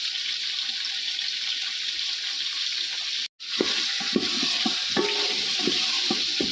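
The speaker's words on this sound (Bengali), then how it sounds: "ভালোভাবে নাড়িয়ে নেব" Garlic paste fries in a pan with a steady, close hiss, broken by a brief silence midway, then resumes with scraping, knocking stir strokes over the continuous sizzle.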